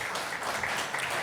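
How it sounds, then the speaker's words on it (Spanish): A church congregation applauds, a dense wash of clapping hands heard indoors at moderate volume for a brief moment. "Y dele un fuerte aplauso a Cristo"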